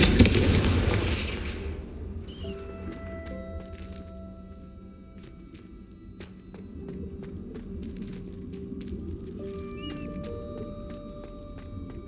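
Confringo fire spell blasts in the video game Hogwarts Legacy, a loud explosive burst at the start that fades into a quieter game soundscape with faint chimes and small magical effects.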